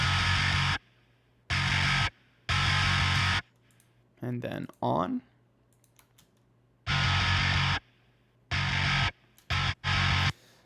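Loud bursts of gritty, heavily distorted bass guitar from a song mix, played in short chunks with the EQ first bypassed and then engaged. Someone speaks briefly in a gap between the bursts.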